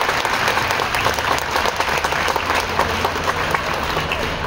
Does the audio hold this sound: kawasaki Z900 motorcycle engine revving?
no